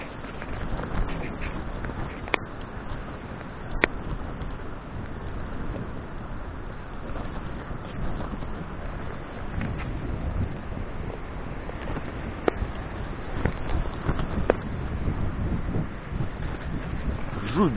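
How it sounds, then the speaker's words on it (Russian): Continuous rushing roar of storm surf breaking on a sandy shore of the Amur River, buffeted by strong wind noise on the microphone, with occasional sharp clicks. "Вот волна бежит прибойная."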